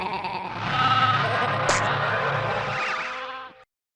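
Sheep bleating in a drawn-out, wavering cry that fills most of the few seconds, loud and close, with faint insect-like buzzing in the background, then cutting off into silence.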